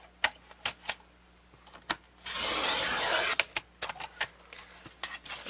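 Paper is trimmed at the 8-inch mark on a file folder craft project, with a brief, rasping slide of a trimmer blade in the middle and scattered close ticks and taps before and after.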